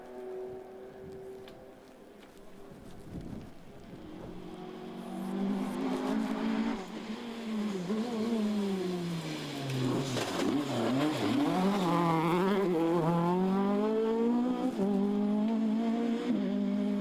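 Rally car in a Super Rally class on a West Cork stage, engine swelling from a distance into a loud, sustained full-throttle howl with rising and falling pitch as it approaches and passes close by.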